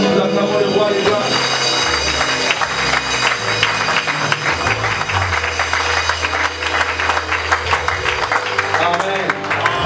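A church congregation applauds and cheers together as one, dense sustained clapping filling the room under music and a voice.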